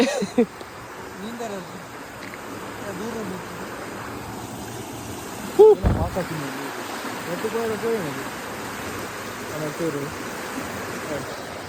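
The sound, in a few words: strong flow of water through a river dam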